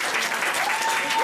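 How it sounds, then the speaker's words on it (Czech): A concert audience claps in dense, steady applause at a charity concert, with a faint tonal note running beneath the crowd noise. "Obrovský aplaus!"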